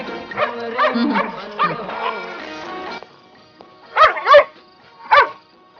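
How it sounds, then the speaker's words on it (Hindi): A dog barks repeatedly at one spot in a comedy film scene. Speech and music come first, then three sharp, loud barks close together, clear and alone. "ये कुत्ता एक जगह देखकर बार बार क्यों भौंक रहा है?"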